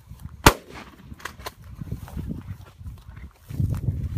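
A shotgun fires at a flushed quail during a hunt, one sharp loud blast early on, followed by faint rustling and low outdoor background noise.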